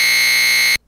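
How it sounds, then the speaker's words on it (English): An old version 4 LSDj pitch wrap synth tone from a Game Boy tracker: a loud, harsh, steady buzzing square-wave drone that holds for under a second and then cuts off abruptly. "some people might recognize this as the sound of the old version 4 pitch wrap"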